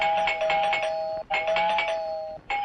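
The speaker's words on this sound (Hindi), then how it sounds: "ये घंटी कुछ लंबी नहीं बज रही?" A doorbell rings indoors in two long, bright tonal chimes with a short break between them, then starts a third.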